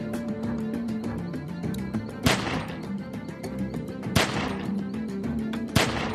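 Rapid gunfire from The Walking Dead video game, with repeated shots crackling over a steady rumble and three louder, sharper blasts standing out. No voices are heard.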